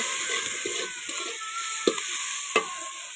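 Shredded cabbage sizzles steadily in a hot pan while a spatula stirs it, with two sharper scrapes of the utensil against the metal standing out near the end.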